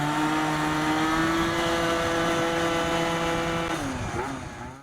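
A Stage6-tuned Yamaha BWS 70 scooter engine drones at a steady, high pitch while riding, then the note sags and tails off near the end; no voices.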